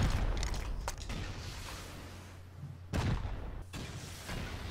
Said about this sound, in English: I can hear the turrets going off.